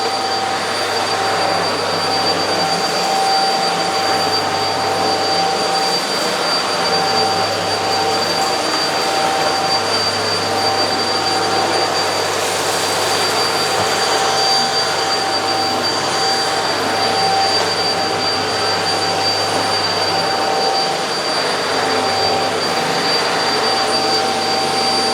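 A Eureka Flash vacuum cleaner runs continuously on a rug with a loud, steady motor roar and high whine, droning without a break throughout.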